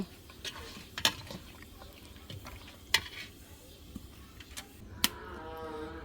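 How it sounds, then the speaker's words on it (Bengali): Mutton curry is stirred in a pot while it cooks, a soft steady sizzle broken by occasional sharp taps of the spoon against the vessel, fairly faint and with no talk. "এখন আমি নাড়াচাড়া করতে থাকবো 15 থেকে 20 মিনিট"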